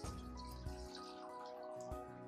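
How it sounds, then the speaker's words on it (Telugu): Water poured into a cooking pot while preparing tomato rasam, a steady continuous splashing stream close by that runs for a couple of seconds without speech. "ఓ గిన్నె, ఇందులో కాసేపు నీళ్ళు పోద్దాం."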